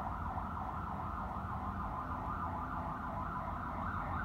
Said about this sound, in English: Sounds like a police car, right?